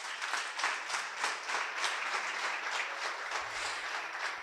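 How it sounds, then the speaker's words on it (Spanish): A live audience gives a round of applause, with dense, steady clapping that holds at an even level for a few seconds and no voices over it. "Un aplauso para Gustavo."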